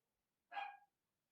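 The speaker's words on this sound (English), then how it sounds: "Don't know if you can hear the dog's barking." A single short dog bark indoors, faint and slightly distant, standing alone in an otherwise quiet room.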